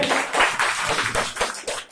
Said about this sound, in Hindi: आज मेरा बर्थडे है तो अरे ताली बजाइए